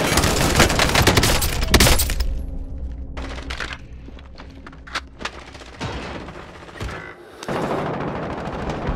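Machine gun fire in the video game Call of Duty Warzone: a dense, loud burst of rapid shots for about two seconds, then scattered single cracks and short volleys farther off.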